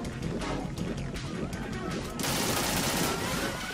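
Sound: gunshots into water in video game Metal Gear Solid 2

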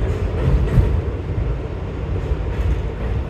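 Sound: subway train arriving at 59th Street station

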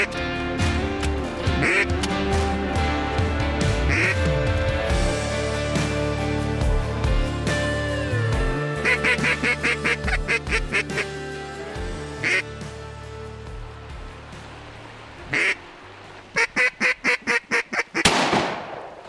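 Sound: mallard ducks quacking on a river

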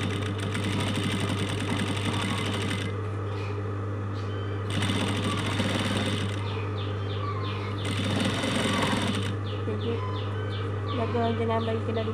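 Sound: sewing machine sewing a box-pleat curtain

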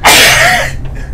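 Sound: sneeze

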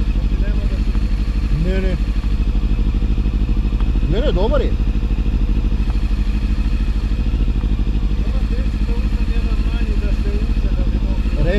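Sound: Honda motorcycle engine running

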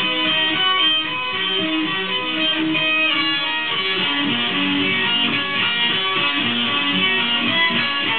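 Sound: electric guitar sweep picking lick

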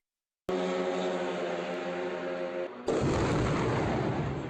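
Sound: Russian Shahed drone strike explosion at night

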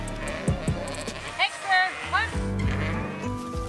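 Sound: flock of sheep bleating

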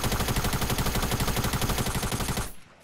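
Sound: gunfire shooting at trees in a video game

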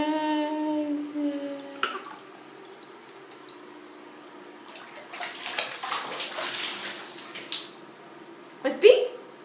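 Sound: water running while washing a child's hair in the bath

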